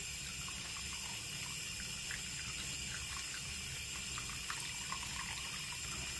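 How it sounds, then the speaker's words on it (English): Warm water runs from a tap while something is rinsed, a faint, steady, continuous splashing hiss with no talking. "Rinse her through the warm water."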